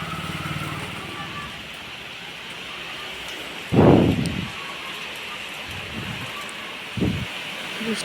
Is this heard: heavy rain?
yes